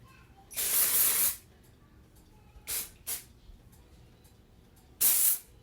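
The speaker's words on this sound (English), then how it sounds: "I'm spraying on the hair about an inch away." A spray bottle mists onto hair about an inch away in short hissing bursts: one long mist, two quick spritzes, then another long spray, close up and otherwise quiet.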